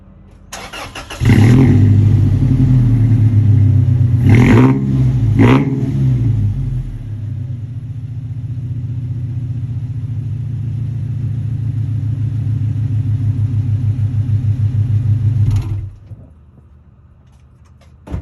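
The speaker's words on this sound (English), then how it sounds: "I'll start the car or the truck so you guys can hear it" A 4-cylinder lawn-care truck fitted with a MagnaFlow dual exhaust cranks and fires up, blips through two sharp revs, then settles into a steady, deep, loud idle before shutting off near the end.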